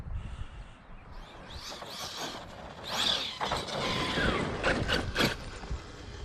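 Squeaking bearings on a Kraton RC car after jumps, heard as a mix of high squeaks, clicks and mechanical rattles, moderately loud and close with no talk.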